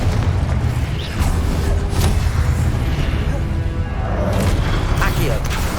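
Repeated Confringo blasting spells in the Hogwarts Legacy video game boom and crash in a noisy fight, with loud low impacts and mechanical clatter mixed under voices.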